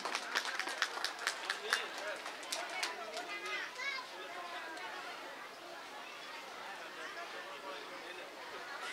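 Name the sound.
audience applause at a school prize ceremony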